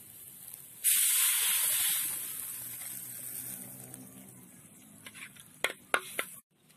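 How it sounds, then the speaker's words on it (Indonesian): Spice paste hissing and sizzling loudly in a pan for an eggplant semur, easing into softer frying, then stirring and a few sharp clinks of utensils against the pan. "sekarang bumbunya dimasukkan ya ditumis maksudnya terus tambahin sedikit air"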